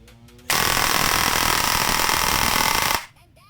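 A JJ SLR V5 airsoft rifle fitted with an LDT mosfet fires one sustained, loud, rapid burst of about two and a half seconds, with quiet handling noise before and after.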